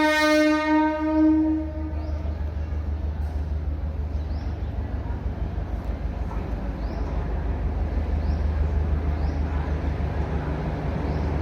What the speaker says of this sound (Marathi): आली मित्रांनो ट्रेन